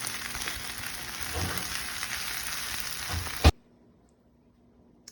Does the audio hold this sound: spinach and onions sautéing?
yes